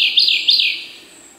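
Birdsong on the Salair Ridge at the Altai–Kuzbass border, where nightingales live: two bright, close chirping phrases that fade into a quieter trailing call, with no voices.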